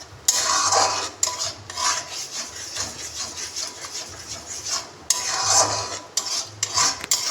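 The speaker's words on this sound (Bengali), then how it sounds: "আদা রসুন পেস্টটা একটু ভালো করে কষিয়ে নেব।" Ginger garlic paste being stir-fried with onion paste and tomato in a pan for a prawn dish, heard as repeated scraping and stirring strokes of a spatula against the pan, close and fairly loud, with brief pauses and no talking.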